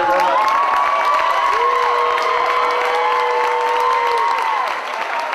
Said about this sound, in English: a round of applause for a great tournament, Roman.